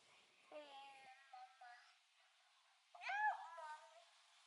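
A house cat meows close by: a brief, soft cry early on, then a louder, bending meow near the end, with quiet stretches between.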